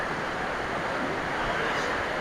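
Strong wind roars steadily and loudly, a dense, unbroken rush with no pauses, ahead of the first rain of 2024 at Ban Yot Huai in Chum Phae.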